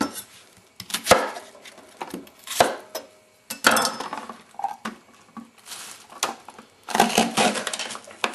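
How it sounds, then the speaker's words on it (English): A Nicer Dicer by Genius chopping onion: repeated forceful crunching presses of plastic blades through onion, irregular bursts separated by short pauses, close and clear with no talking. "let's continue chopping"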